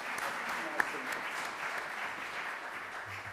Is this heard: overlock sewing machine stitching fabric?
no